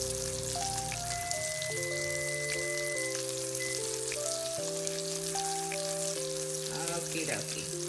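A T-bone steak sears in a hot pan with a steady, close crackling sizzle that runs the whole time under a layer of tonal background music.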